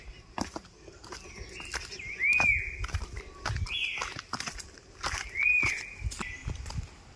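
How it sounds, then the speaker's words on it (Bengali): Birds call in a hillside forest with a few clear whistled notes rising over the sound of footsteps crunching steadily down a path, fairly close and moderately loud. "কি সুন্দর পাখির আওয়াজ শোনা যাচ্ছে।"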